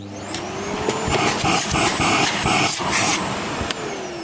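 An AEG UltraCaptic vacuum cleaner runs with a loud, steady motor whine and roar of suction throughout, the pitch wavering slightly as it moves across a carpet.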